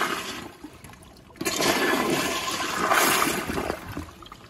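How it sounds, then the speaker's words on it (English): A Toto CT705 toilet with a piston flushometer flushes hard after a brief quiet start. The rush of water is loud and close and holds strong for several seconds before it begins to ease, with no talking over it. "this toilet can flush it like it's nothing."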